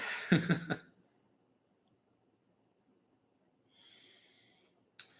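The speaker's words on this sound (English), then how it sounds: "And I yawn." A person gives one short, breathy yawn with a wheezy, snorting quality, followed by near silence and a faint hiss.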